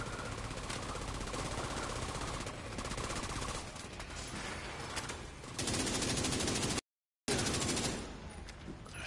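Sustained rapid automatic gunfire from The Division 2 video game, loud and continuous, with a brief cut of silence before it resumes.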